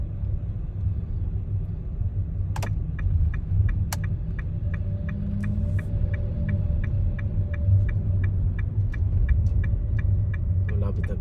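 A steady low road rumble fills the inside of a car stuck in heavy traffic on a commute in Japan, while a regular ticking clicks along in the cabin for most of the stretch.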